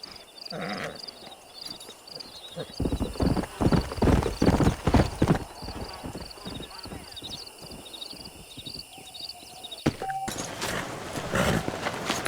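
A stallion's hooves clip-clop steadily in a Red Dead Redemption scene, with whinnying neighs near the start and end, while people speak over it.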